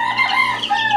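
Several chickens, three young birds and a hen, cluck and chatter close by in a continuous stream of calls with no pauses.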